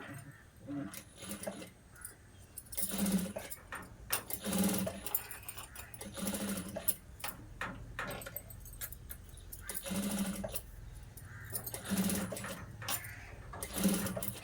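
Domestic sewing machine stitching lace onto the neckline of a blouse, running in repeated bursts with pauses, at moderate level close by while someone talks over it.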